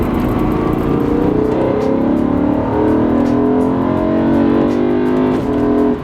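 A BMW E9X M3 V8 fitted with an AFE carbon fiber intake drones loudly and steadily, its engine note rising gradually under sustained revs without pause or speech.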